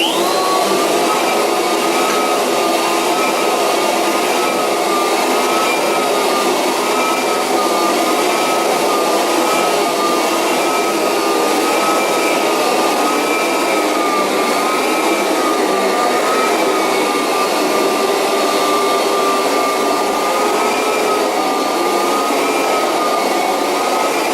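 A Kirby vacuum cleaner with its shampoo attachment scrubs carpet, a loud, steady motor whine with a high tonal hum that runs unbroken and close throughout, with no talking.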